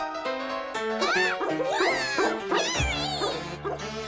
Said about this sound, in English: Hi, nice doggy.